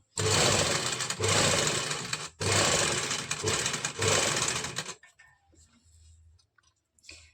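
A sewing machine stitches along the edges of buckram in two long, loud runs with a brief pause between them, then stops, leaving faint handling sounds.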